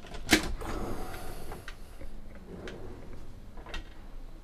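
A large soft-close pan drawer in the galley of a 2014 Chausson 510 camper van slides shut, one sharp thud followed by a few quieter soft knocks.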